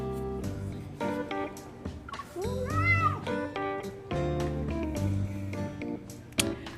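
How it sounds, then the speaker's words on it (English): A cat meows in the video game Love & Deepspace, its rising, pitch-bending cry standing out over continuous music and game sound effects. "A bold cat climbs onto Silas's chest, but is swiftly grabbed by the hand of fate"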